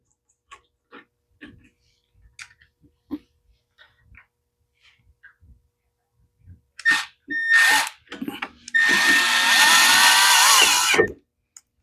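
A screw gun drives screws into a Troy-Bilt mower in a workshop, with short bursts followed by one long loud whirring run, amid scattered clicks and handling noises.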